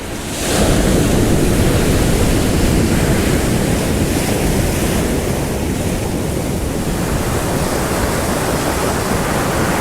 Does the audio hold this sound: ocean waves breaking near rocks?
yes